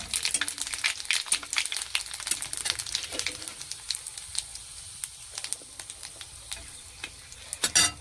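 Bay leaf, dried red chillies and panch phoron crackle and sizzle in hot oil in a pan, with close, busy popping and spattering that thins slightly toward the end.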